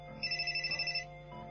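A telephone rings in a quick series of bright electronic trills lasting about a second, over a steady low background hum, in a Chinese police radio drama scene.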